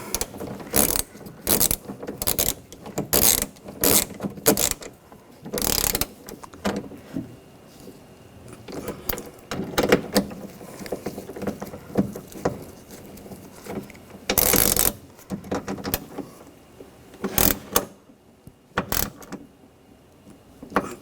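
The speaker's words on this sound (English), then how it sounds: "And now tighten these ones down" Bolts are tightened with a ratchet on the rear window regulator of a 2004-2009 Audi A4 Quattro, giving repeated clicking ratchet strokes in short bursts with pauses and scattered metallic clatter nearby.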